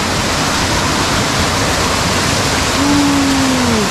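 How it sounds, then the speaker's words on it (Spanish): A waterfall in a hidden forest valley at Ilish Pichacoto roars loud and unbroken, a dense steady rush of falling water, with a brief faint whining tone rising near the end. "Descubriendo maravillas naturales. Una catarata, mano."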